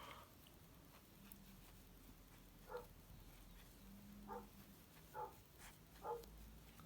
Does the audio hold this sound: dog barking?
yes